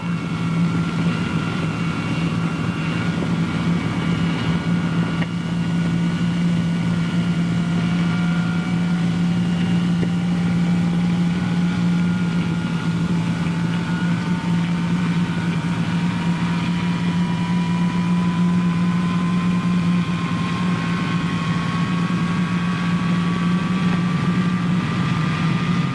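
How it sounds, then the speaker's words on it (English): Jet engines of a B-47 Stratojet six-engined bomber starting up, a loud steady roar with a strong low drone and a slowly rising whine climbing in pitch across the whole stretch, no voices. "There's no easier way to wash out a jet engine than poor starting technique."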